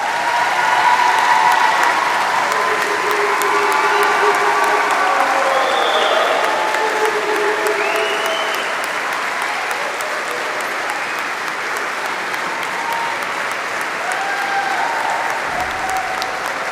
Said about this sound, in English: Can we all give all the graduates a round of applause, please?